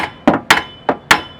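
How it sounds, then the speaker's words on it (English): A hammer strikes a vehicle's outer tie rod four times in an uneven rhythm, each hit a sharp, loud metallic whack that rings briefly and fades, close and alone. "I then take my hammer"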